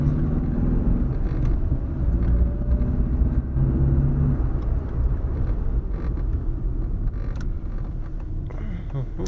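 A Ford Ghia drives along with a steady low road and engine rumble, a faint rattle near the sunroof ticking through it, with occasional creaks and a voice talking over the cabin noise.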